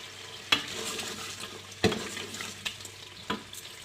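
Mutton pieces with a green chili frying in a pan, a steady sizzle with a few sharp spoon-against-pan stirring clacks spaced a couple of seconds apart, close and moderately quiet.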